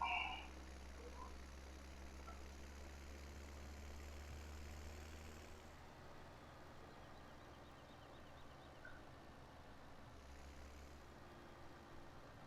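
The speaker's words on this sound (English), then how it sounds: "I love the sound of this tractor." Tractor engine in Farming Simulator 17, a steady low idle-like drone with a deep rumble that eases partway through and returns near the end, continuous and moderately quiet.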